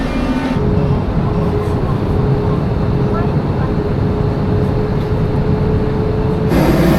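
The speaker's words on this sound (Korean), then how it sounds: "지하철이 좀 소박하고 시끄럽긴 한데" A subway train rumbles loudly and continuously, a dense roar with a steady whine running through it, close by.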